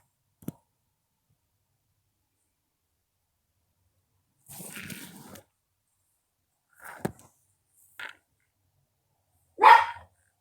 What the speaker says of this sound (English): What are you barking about, bro?